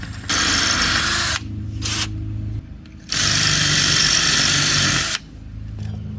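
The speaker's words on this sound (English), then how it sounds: "So I'm gonna just drill now. I'm using a 1/4-inch masonry drill bit." A power drill fitted with a quarter-inch masonry bit bores into masonry while installing outdoor landscape lighting, running in loud, steady whirring bursts of a second or two with short pauses between, close up and without talk.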